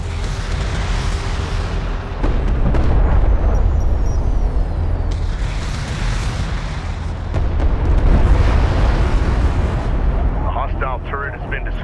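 A turret explodes during a battle in the Homeworld: Deserts of Kharak video game, with heavy rumbling booms and blasts rolling over continuous low battle noise. A short chirpy tone sounds near the end.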